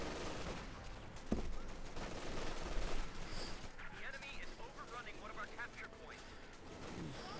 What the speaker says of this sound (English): Pretty hefty duel of bullets there